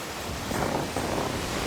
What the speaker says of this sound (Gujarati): મોટા મોટા ઉછળતા મોજાઓ